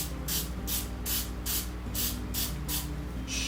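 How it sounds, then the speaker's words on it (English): Short repeated bursts of baking spray hiss onto a silicone muffin mold, about eight quick evenly spaced pumps, close and fairly loud over a low background hum. "So I'm just going to spray this with a little bit of silicone"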